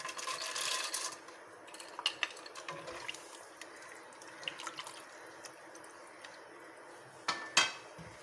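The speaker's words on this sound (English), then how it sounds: "Stir it well. Add the cashew nuts." A spoon stirring mixed vegetable pulao with cashew nuts in a metal pot, with scraping and clinking against the pot over a soft background hiss and a few sharp knocks, no talking.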